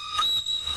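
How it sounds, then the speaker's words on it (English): A small whistle gives one short, shrill, steady blast, close and fairly loud, with no voices. "And then this is a smaller whistle."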